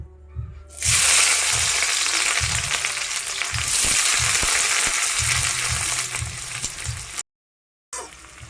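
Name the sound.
onions frying in hot oil, Kolkata street food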